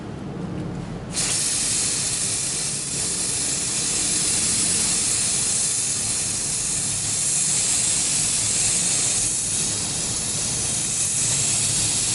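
A water-resistant treatment sprays steadily onto a two-person Mountain Trails Cedar Brook tent as the first coat, a continuous close hiss that starts after a second and runs loud and unbroken to the end.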